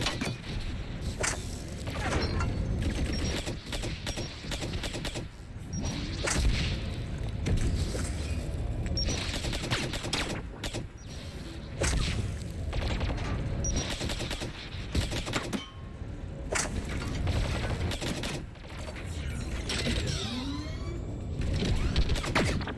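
Turret gunfire in the video game Mass Effect 3: rapid bursts of automatic shots repeat across the whole stretch, loud and dense, with brief gaps between volleys and mechanical clanks mixed in.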